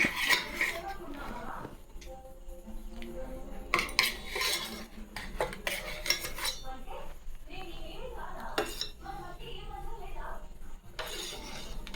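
A spoon clinks and scrapes against a bowl while jaggery is stirred into a milk mixture, with irregular metallic knocks up close and faint voices in the background.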